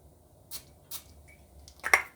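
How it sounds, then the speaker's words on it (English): Three short hissing sprays of Amouage Royal Tobacco perfume from an atomizer onto a hand, spaced apart, with the last burst loudest, in an otherwise quiet room. "So I'm gonna spray my hand as well."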